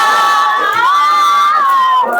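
A congregation at a Sunday prayer meeting shouts praise together: many voices raised in a loud, sustained, sung chant that holds steady with no pauses.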